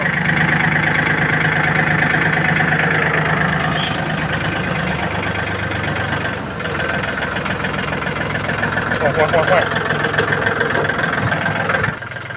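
A Yanmar 39 tractor hitched to a harvester trailer idles steadily, its diesel chugging in a close, even rumble with a faint knock and a slight swell near the end.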